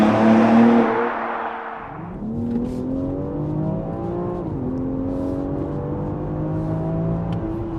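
A 510 bhp BMW X4 M Competition engine revs hard, then the tone drops and climbs again through several rising sweeps as the car accelerates, heard loud and steady from inside the cabin.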